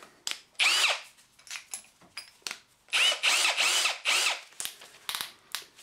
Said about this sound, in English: We'll then put that in the drill.